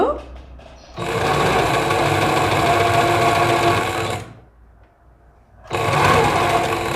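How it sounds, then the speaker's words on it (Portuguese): A sewing machine stitching fabric for a dress with Japanese-style sleeves: a loud, steady, close whirring run of about three seconds, a short quiet pause, then stitching resumes. "ir deslizando o meu tecido sobre a minha máquina de costura"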